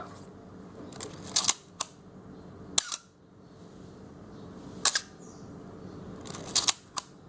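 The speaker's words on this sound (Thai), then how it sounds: "ตัวนี้จะมีอาการที่เรียกว่า shutter squeak นะครับ ก็คือจะมีเสียงแบบนี้" Several sharp shutter clicks from a Canon AE-1 Program film camera with shutter squeak, some with a brief squeaky edge, fired one after another with short gaps, close and clear.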